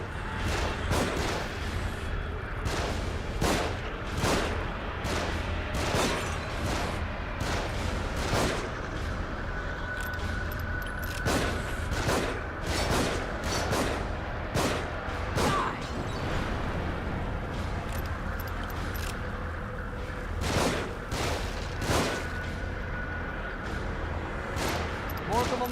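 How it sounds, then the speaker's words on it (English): Repeated gunfire rains down from above in The Evil Within, sharp loud shots and bursts scattered across a continuous noisy battle bed, with voices heard among the firing. "They're shooting from above."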